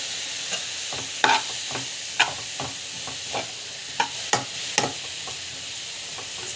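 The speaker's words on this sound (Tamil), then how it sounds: "ஸோ இன்னும் பார்த்தீங்கன்னா நல்லா வந்து வதக்கிட்டுக்கணும்" Ginger garlic paste with asafoetida and salt sautéing in a pan: a soft continuous sizzle under repeated sharp spatula scrapes and taps, spaced irregularly about every half second to a second, close and clear, with no speech.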